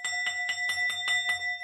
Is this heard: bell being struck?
yes